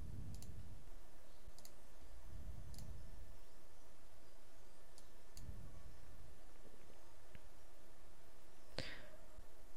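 A computer mouse clicks a handful of times, sharp and isolated, over a faint steady room hum.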